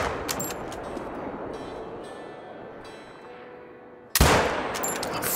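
Gunfire in a hunting video game set in Nepal, a few scattered sharp shots followed by a loud burst near the end, with no talk.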